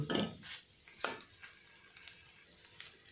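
Potatoes and capsicum being stirred in a cooking pan, with a few sharp metallic scrapes and clinks of a utensil against the pan over faint background noise. No voices are heard.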